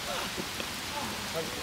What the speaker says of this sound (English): So, rain coming down pretty hard now.